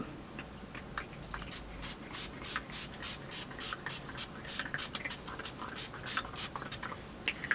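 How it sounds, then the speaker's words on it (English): Urban Decay All Nighter setting spray is misted onto a face in a quick run of short, close spritzes, each a brief hiss, with faint rustling between them. "This is the Urban Decay All Nighter Spray."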